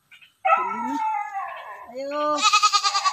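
Goats bleat in a rural yard where a nanny has just given birth to two kids, a few loud, wavering cries close by with a rapid tremulous call at the end, and a voice briefly heard before them.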